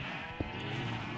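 Sheep bleat in the Minecraft video game, a short wavering call rising over a soft steady background hum, brief and fairly faint.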